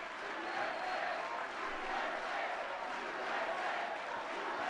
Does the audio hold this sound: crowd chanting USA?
yes